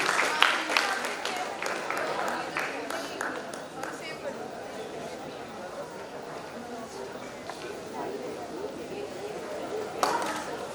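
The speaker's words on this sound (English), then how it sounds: "Please give them a huge round of applause." Audience applause at the VERUS MUN 2024 Model UN event, a dense, steady patter of clapping with crowd chatter mixed in, slightly stronger at the start and swelling briefly again near the end.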